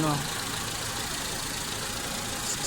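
Mitsubishi Lancer engine running steadily during coolant bleeding, a constant mid-pitched idle hum heard close with a brief voice at the start.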